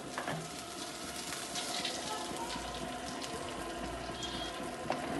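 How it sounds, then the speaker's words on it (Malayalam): Coconut oil pours into a wok already used for frying beef, giving a continuous close hiss and sizzle, fairly even and loud, with a brief clack near the end. "ഞാൻ ഇതേ ചീനച്ചട്ടിയിൽ തന്നെ ഞാൻ വെള്ളെണ്ണ ഒഴിക്കുന്നുണ്ട്"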